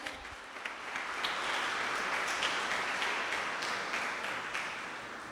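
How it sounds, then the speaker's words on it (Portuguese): A church congregation bursts into strong applause during a sermon, a dense, sustained wash of many hands clapping that swells and holds steady before easing slightly. "Dê uma forte salva de palmas."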